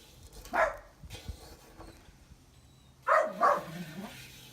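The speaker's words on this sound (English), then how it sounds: "That would be Chesterfield barking." A dog barks a few times, one bark early and then a quick pair later, moderately close against a quiet background.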